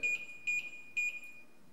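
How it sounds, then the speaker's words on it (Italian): Three short, bright electronic beeps from a wireless RGB LED strip controller, evenly spaced about half a second apart, each sounding as a button is pressed, alone over quiet room noise. "Abbiamo anche un beep che ci segnala che stiamo facendo le giuste manovre sui pulsanti."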